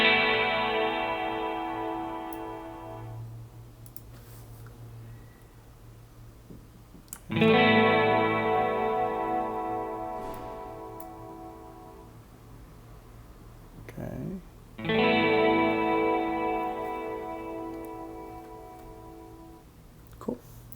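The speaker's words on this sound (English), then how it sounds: "let's send the guitar to a reverb as well" Guitar chords routed to a drum reverb in a Pro Tools mix, three sustained strums spaced several seconds apart, each ringing out and decaying, with faint ticking between.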